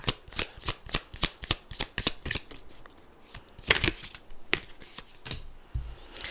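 Tarot cards shuffled close by in quick, rhythmic riffling bursts that pause briefly midway and then resume, with no voices.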